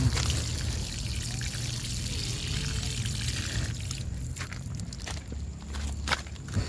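Water pours steadily onto compost-mixed soil in a planter, a soft continuous trickle and splash that thins out near the end.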